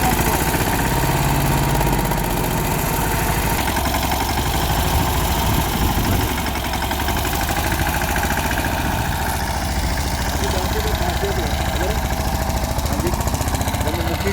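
A tractor tills a papaya field, its engine running loud and steady throughout with a rough rattling drone.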